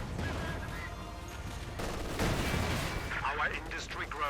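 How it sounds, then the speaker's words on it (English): A T-70 light tank fires its 45mm gun amid a battle with Grenadier infantry in the strategy game Company of Heroes 2, sharp gunshots and blasts layered in dense combat noise, heard beneath a commentator's voice. "T-70 rolling up there on the eastern flank, engaging Grenadiers, firing its 45mm gun."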